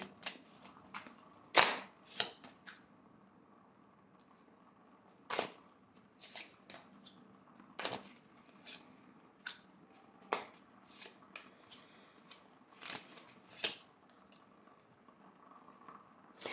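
Tarot cards being handled and laid down, sharp sparse snaps and slaps scattered irregularly over a quiet background, with soft shuffling rustles between them.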